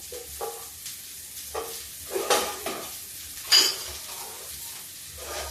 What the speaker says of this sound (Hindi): इसको चावल को हम ऐसे करके चला देते हैं, ये देखिए